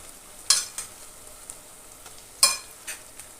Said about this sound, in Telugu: ఇప్పుడు మనము మిక్స్ చేసి పెట్టుకున్న చికెన్ అంతా వేసేసుకోవాలి.